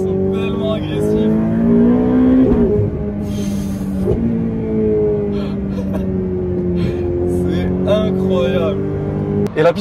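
A high-revving naturally aspirated Lamborghini Huracán STO engine climbs through its gears with sharp, aggressive shifts, the pitch dropping and rising again several times, up close and loud.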